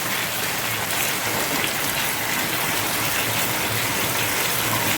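Ginger paste and spices fry in hot oil for a pomfret curry, giving a loud, dense, steady sizzle that stays constant and close from start to finish without talk.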